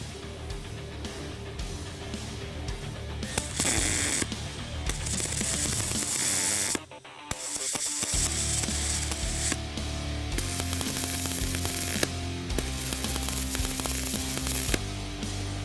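A MIG braze weld being pushed along a steel joint with a Chief MULTIMIG 522 welder gives a steady, close crackling hiss that breaks off briefly mid-way and then resumes, with no talking.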